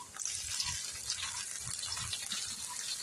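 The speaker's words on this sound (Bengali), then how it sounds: "এখন দিয়ে দেবো হালকা একটু রান্না করার পানি," Water poured into a pan of frying onion, green chilli and ginger paste in oil, a steady broadband gush and sizzle lasting throughout, close and fairly loud, with no talk.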